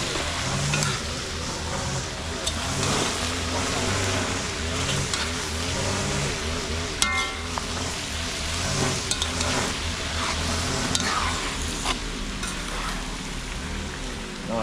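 Food being stirred in a big pot over a fire at an outdoor Jamaican cook out, continuous scraping and bubbling sizzle with a dense rain-like hiss and a low background rumble.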